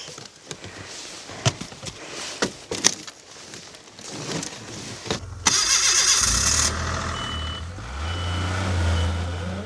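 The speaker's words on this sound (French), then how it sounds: "au guidon de son scooter des neiges, Muriel file à travers la montagne pour dépo" A snowmobile engine starts and settles into a loud, steady idle after a stretch of scattered clunks and knocks, with a thin high tone briefly above it, in a snowy Alpine hamlet.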